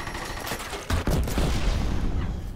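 Rapid gunfire from Killzone Shadow Fall team deathmatch on the Slums map, dense bursts of automatic shots with a heavy impact near the middle, continuous and loud throughout with no talking.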